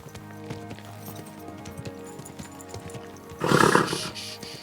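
A horse in the video game Kingdom Come: Deliverance II, with soft hoof clops and tack noises, then a loud, close whinny near the end.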